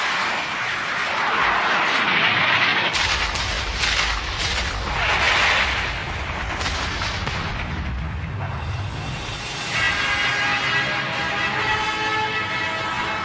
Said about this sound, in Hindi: मिसाइल आ रही हैं।